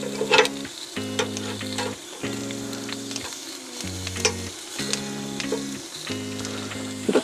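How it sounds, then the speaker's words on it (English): Potatoes and vegetables sizzle steadily on a camp chargrill, a close, continuous frying crackle with occasional ticks and scraping, no voices. "Potatoes are starting to brown up nicely."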